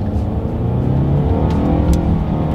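A 2023 Nissan Altima with a CVT pulls hard in sport mode, its engine note loud and steady from inside the cabin, a continuous droning rise with no gear breaks and no voices.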